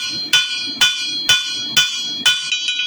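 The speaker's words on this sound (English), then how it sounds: "You'll hear it hit the anvil down to my point" A blacksmith's hammer strikes hot steel on an anvil while tapering a stylized leaf: five loud, ringing metallic blows at an even pace, then a few lighter rebound taps, close and with no talk.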